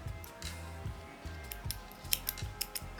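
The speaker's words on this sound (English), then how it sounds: "cut off the yarn" Scissors snip crochet yarn in a few quiet, close cuts, soft clicks and rustles over a faint background hum.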